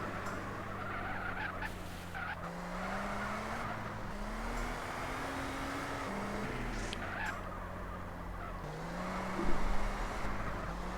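Car driving in the multiplayer game MTA, a steady engine drone rising and falling in pitch as it accelerates and shifts, with occasional tire skids and faint talk underneath.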